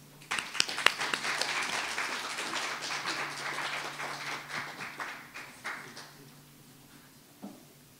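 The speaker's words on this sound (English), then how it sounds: "Please give a warm round of applause." Audience applause at an international science and technology policy symposium opening ceremony, a dense spread of clapping that swells quickly, holds for several seconds and then thins out to a few last claps.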